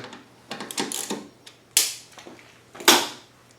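Bolts being tightened on the cabinet of a DuroMax 11000 generator extended-run fuel kit give a few close, sharp metallic clicks and ratcheting bursts spaced apart, with no voice.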